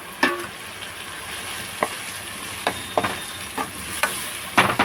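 Tomatoes frying with ginger garlic paste in a pan sizzle steadily, with a utensil scraping and tapping against the pan at irregular intervals, several of the knocks sharp and close.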